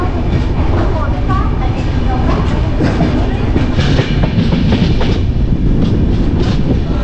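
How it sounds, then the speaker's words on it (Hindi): A passenger train pulls out of Warangal station, heard from inside a crowded general coach: loud, steady rumble and clickety-clack of wheels on rail, with murmuring passengers under the din. "देख लीजिए वारंगल से अपनी ट्रेन का डिपार्चर।"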